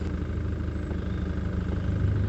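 A Rover P6 car engine idles on choke just after starting, a steady low, close rumble with an even pulsing beat and no talk.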